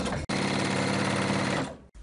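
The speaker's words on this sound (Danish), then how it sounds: "nu syr jeg det sidste af sidesømmen her på overlockeren" An overlock sewing machine stitches the side seam of a child's ruffled dress in one fast, steady whirring run, close and loud, starting and stopping abruptly.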